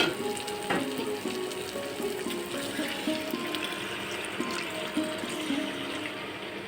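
Egg kofta curry masala sizzling steadily in a pan as water goes in, a continuous frying hiss with soft bubbling and occasional stirring clinks, close and moderately loud with no talking.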